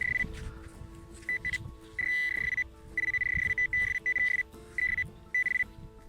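Intermittent electronic beeping tones from a Garrett AT Pro metal detector, steady and clean, pulsing in short bursts over a low hum and faint rustling in the background.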